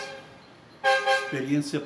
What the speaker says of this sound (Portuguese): Você está ouvindo carros buzinar, está ouvindo coisas.